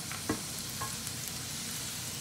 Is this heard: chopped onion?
yes